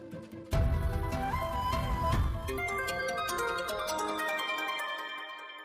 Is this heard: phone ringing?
yes